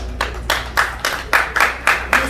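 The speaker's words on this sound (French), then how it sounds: "On peut encore applaudir?" A wedding audience claps in steady rhythmic unison, eight or nine even beats in a row, fairly close and clear, with no talking.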